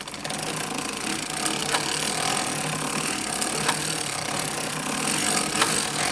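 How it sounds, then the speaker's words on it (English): A knitting machine crank turning to knit rows of yarn, a continuous close mechanical rattling and whirring with periodic sharp clicks roughly every two seconds as each pass completes. "you're going to crank 50 rows of working yarn"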